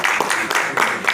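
A crowd at a community gathering in Meerut claps loudly and steadily to welcome a guest being garlanded on stage, a brief close burst of applause.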